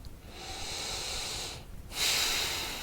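A person taking two slow, deep breaths close to the mic, a long hissing inhale followed by a brief pause and then a louder, breathy exhale, with no talking.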